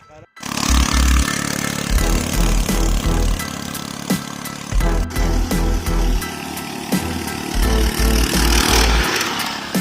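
A homemade mini motorcycle's small engine running close by, loud and buzzing, revving up and easing off in repeated surges over about ten seconds as it pulls a rider, with little talk.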